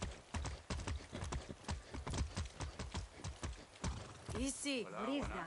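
Horse hooves clip-clop in steady rhythmic beats in the video game Far Cry 6, close and clear, ending with a horse's whinny near the close, with game sounds in the background.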